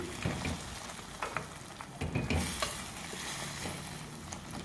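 Potatoes with fenugreek leaves simmering over a low flame in a pan with a little water, giving a soft, steady sizzle broken by occasional light stirring scrapes and clicks, fairly quiet with no talk.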